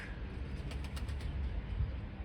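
Racing pigeons in a Turkish loft, a healthy flock after the breeding season, give off a steady low murmur of cooing with soft wing flutters, close and continuous with no talk.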